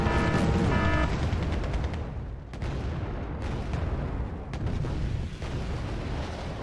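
Recoilless rifle and missile fire in the video game Wargame: Red Dragon: a loud, continuous roar of overlapping booms, blasts and launches, with several sharp reports standing out in the dense battle noise.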